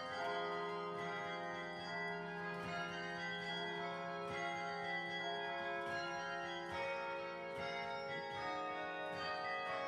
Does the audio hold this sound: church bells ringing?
yes